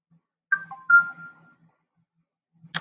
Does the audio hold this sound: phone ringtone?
yes